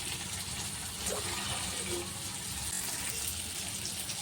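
Continuous stream of water pouring and splashing into a cooking pot, a steady gushing hiss with no talk.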